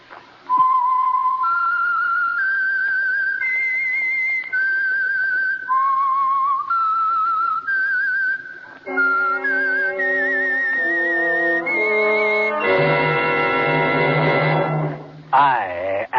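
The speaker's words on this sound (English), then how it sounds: "the signal to listen for is this whistle that identifies the Signal Oil program" A clear, bright whistled melody, the theme of the radio program The Whistler, sustained notes stepping through a tune, then joined by a fuller musical accompaniment near the end.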